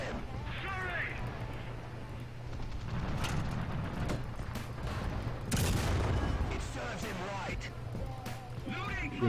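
Gunfire in a video game, booming shots and explosive bursts rising loud in the middle, with a constant low hum beneath and voices talking over parts of it.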